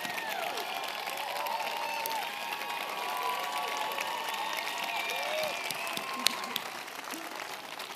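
A large audience at a South by South Lawn discussion with President Obama keeps up steady, even clapping with faint cheers mixed in, sustained for several seconds.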